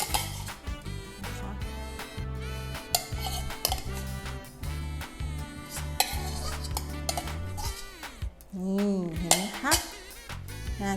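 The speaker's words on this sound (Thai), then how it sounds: "ราดให้ทั่วเลยเนาะ เพราะว่าเราจะไม่คลุกอะค่ะ เราจะตักราด" Dressing is spooned over a Thai fried egg salad, with repeated light clinks and scrapes of a spoon against a dish in quick irregular bursts over steady background music, loud and close.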